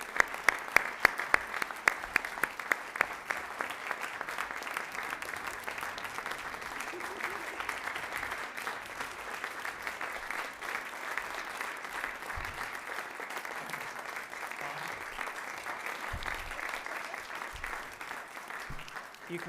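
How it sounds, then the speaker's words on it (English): Audience at a fall university convocation applauding a graduate on stage, a sustained dense roar of clapping from a large crowd that opens with a few louder claps and holds steady throughout. "You can keep applauding all day for this man."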